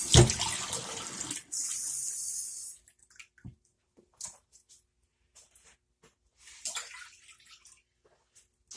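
Water pours steadily from a tap into a measuring cup for about three seconds, then stops, followed by faint clinks and light handling noises.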